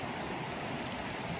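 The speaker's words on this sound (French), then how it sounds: "Là, c'est le bruit de la rivière, des petits torrents." Small river and little mountain torrents flowing, a steady broadband rush of water, quiet and continuous with no voices.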